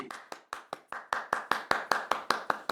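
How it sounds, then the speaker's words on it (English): A small audience claps in a steady, evenly spaced rhythm of about a dozen crisp hand claps, close and fairly quiet, with no voices over it. "Round of applause"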